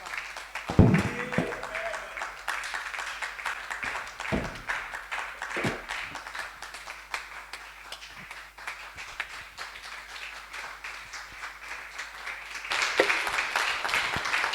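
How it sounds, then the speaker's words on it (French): A church congregation applauds and acclaims, dense continuous clapping filling the space with scattered thumps and faint voices mixed in, swelling louder toward the end. "Acclame puissamment le Seigneur pour recevoir notre Papa."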